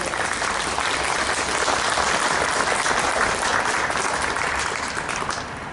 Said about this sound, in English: How about an applause for Dan Seawalk.